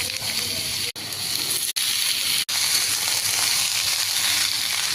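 Continuous loud sizzling of okra and prawns frying in a hot pan with salt and turmeric, close up, with a few brief dropouts in the otherwise steady crackle.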